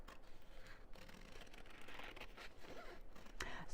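Scissors cutting out a shape, a series of close, quiet rasping snips and scrapes that run steadily through the clip with no talk.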